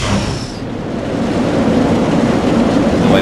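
A roller coaster train runs right beside a second coaster train, giving a steady, loud rolling rumble with faint rattling throughout and no talking.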